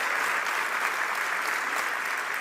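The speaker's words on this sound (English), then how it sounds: "can we please give Taylor a huge round of applause for the extraordinary job that she just did" An audience at a public event with Maryland's governor applauds a speaker named Taylor, producing a smooth, dense, sustained wash of clapping from a large crowd, moderately loud and even, with no voices over it.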